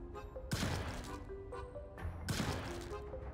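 Gunshots in the Clarence video game Thirty Days and Seven Seas: two sharp broadband bangs about two seconds apart, loud and close, over a steady game music bed.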